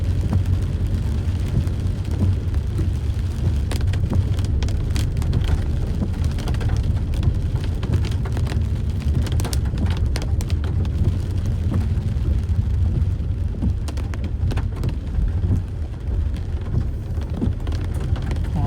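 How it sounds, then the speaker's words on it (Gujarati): Heavy rain pours steadily on a main road in Bodeli, Gujarat, with a dense, continuous hiss and patter, and a low rumble runs underneath throughout. "બોડેલીનો પહેલો વરસાદ બધે જ પાણી થઈ ગયું છે"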